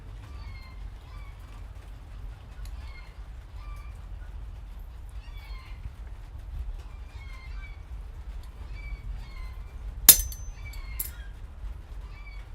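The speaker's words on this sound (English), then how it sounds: "now you get to also hear a cacophony of chickens." Chickens cluck and murmur intermittently at a moderate distance over a low background rumble in a blacksmith's smithy, with a sharper squawk near the end.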